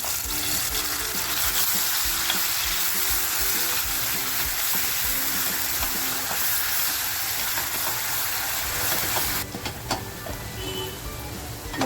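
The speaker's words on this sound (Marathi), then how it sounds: "तेल छान तापल्यानंतर आहे ना मसाला जो करून घेतला आहे तो मसाला टाकते आहे" Spicy ground masala dropped into well-heated oil for a village-style prawn curry sizzles and crackles steadily and loudly, close up, easing off slightly near the end.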